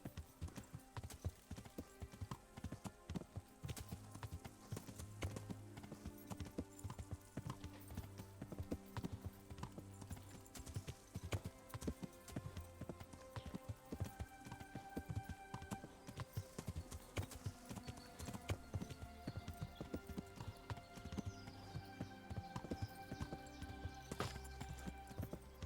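Rapid, rhythmic hoofbeats of a galloping horse in a medieval game world, a steady clip-clop running unbroken and close throughout, with no other sounds over it.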